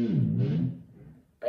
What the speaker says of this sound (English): If you push it all the way down, like you shouldn't, it should sound like this.